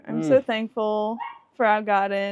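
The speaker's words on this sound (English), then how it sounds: "You will hear a dog barking." Dog barking and yipping outdoors in a spring garden, several sharp barks with brief whimpering tones, mixed in with a person talking nearby.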